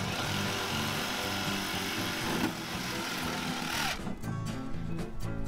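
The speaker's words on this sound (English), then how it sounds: "Cut this wire and then I'm gonna sawzall it and we'll be good." On a rat rod wrecker, a Sawzall reciprocating saw cuts through a part with a loud, continuous rasping roar for about four seconds. It then stops, leaving faint mechanical clicks and clatter.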